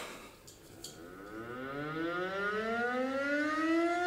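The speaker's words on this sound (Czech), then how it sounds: "Sirény." A civil defense siren wails alone, its tone rising steadily and growing louder as it winds up, with no talk over it.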